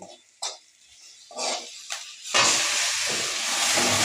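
Taro leaves and boiled lentils are dropped into hot oil with chopped green chilli and salt, and the pan bursts into a loud, steady sizzling hiss. Short scrapes and clinks of stirring come first.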